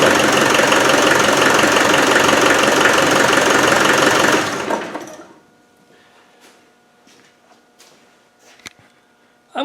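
A Land Rover 300Tdi diesel engine, fitted with an electric fuel pump, runs loud and close with a dense, rough clatter for about four seconds, then cuts off and fades, leaving near silence broken by a few small knocks.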